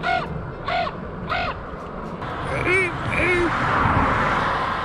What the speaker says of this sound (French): je retrouve mes amis les corbeaux avec qui j'essaye de communiquer